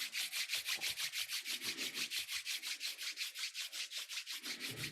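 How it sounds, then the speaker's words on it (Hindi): Both palms rubbed briskly together during a guided self-healing exercise, a steady run of about twenty rhythmic swishing strokes, close and clear with no talking. "दोनों हथेलियों को रब करें।"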